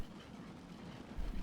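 A train rolls along in Transport Fever 2, a faint low rumble with soft rail clatter that swells slightly near the end.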